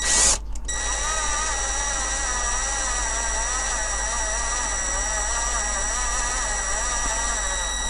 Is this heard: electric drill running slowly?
yes